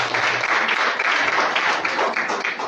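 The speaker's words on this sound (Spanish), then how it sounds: "¿Cuánto un aplauso a ti, reina?" A church congregation applauds, steady dense clapping from a crowd filling the whole moment without pause, fairly loud and close.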